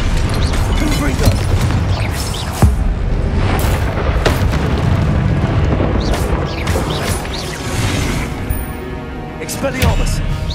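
Confringo blasting spells go off repeatedly during a duel in Hogwarts Legacy at Percival Rackham's trial, sharp booming bursts that punch through a dense, loud bed of combat effects and background game sound.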